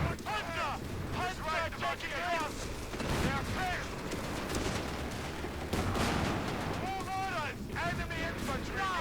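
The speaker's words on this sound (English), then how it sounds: "Here's airburst artillery." Airburst artillery in the real-time strategy game Company of Heroes 3 booms and crackles continuously amid rattling gunfire and whistling shells in a dense, loud battle soundscape, with someone talking over it.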